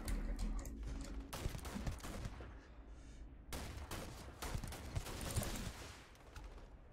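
Video game gunfire in a hectic firefight, loud dense bursts of shots and rapid volleys close up, broken by a short lull before the shooting resumes heavier, with no talking.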